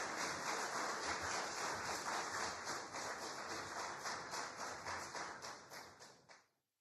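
An audience at an Army 250th anniversary breakfast reception applauds, a steady wash of many hands clapping at close range that holds for several seconds and then fades out quickly.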